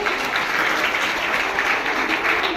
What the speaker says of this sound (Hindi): एक बार तालियां बजा दीजिए इनके लिए।